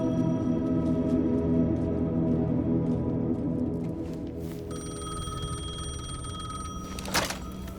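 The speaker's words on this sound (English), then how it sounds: "The payphone was ringing." A payphone in Alan Wake 2 rings with a steady electronic trill that sets in partway through over a low, droning ambience and continues to the end.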